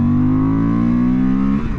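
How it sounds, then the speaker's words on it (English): A 2025 Honda Transalp's parallel-twin engine revs under throttle in sport mode, a loud, steady, close-up drone that holds and slightly rises, then drops off near the end, with no talking. "switch it into sport mode, and we'll give it a little bit of throttle here"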